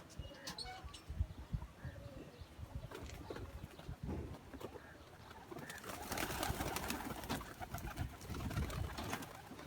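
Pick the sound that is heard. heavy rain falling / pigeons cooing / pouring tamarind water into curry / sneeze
pigeons cooing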